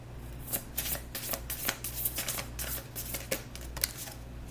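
A deck of tarot cards shuffled close up in a quiet room, with repeated quick riffling bursts in an uneven rhythm over a low steady hum.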